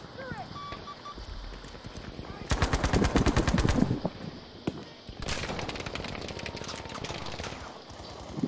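MG42 machine gun firing in Battlefield V, two long rapid-fire bursts of evenly spaced cracking shots, the first louder and closer, with game effects and players talking in between.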